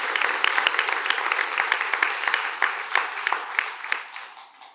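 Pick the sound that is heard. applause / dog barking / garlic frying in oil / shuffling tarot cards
applause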